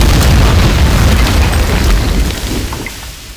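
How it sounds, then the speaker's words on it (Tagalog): A bomb goes off in a radio-style drama: a loud, sustained explosive boom with a rumbling low end and crackling debris that slowly fades over about three seconds, with no voices. "Biglang sumabog ang bomba."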